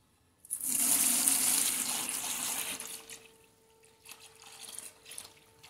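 Liquid tallow for soapmaking pours in a steady gushing stream for about two seconds, then tapers into softer trickles and splashes, close by.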